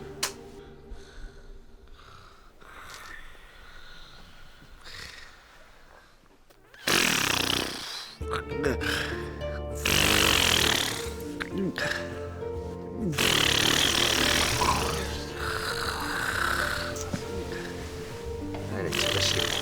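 A man snores loudly in his sleep in a military barracks, with harsh rasping mouth-snores that grow loud and sustained over the second half after a quieter stretch with faint talk.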